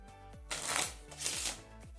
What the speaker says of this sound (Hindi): पैरो शफल मैं परफॉर्म कर देता हूँ ताकि सारे कार्ड मिक्स हो जाएं